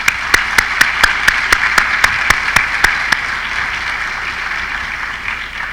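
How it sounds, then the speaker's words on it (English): Applause from an audience at a memorial celebration of life, loud at first with a few sharp, regular claps standing out near the front, then thinning and fading away over the last couple of seconds. "Let's give another round of applause for all of our speakers."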